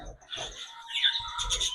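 A pet budgerigar chirps in short, bright tweets while eating a honey-rice feed, with soft pecking noises and quiet gaps between calls indoors.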